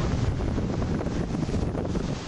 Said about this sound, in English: Huge gust of wind.